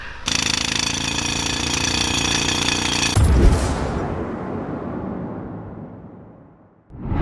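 A rock drill hammers loudly and continuously into stone, with a dense percussive rattle. It stops abruptly, leaving a long decaying rumble and echo before another burst of noise at the end.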